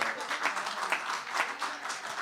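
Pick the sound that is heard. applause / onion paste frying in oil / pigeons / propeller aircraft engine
applause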